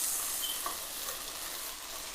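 Mushrooms sizzle and fry in a pan for steakhouse sweet and hot noodles, a soft steady crackle with faint stirring, quiet and continuous throughout.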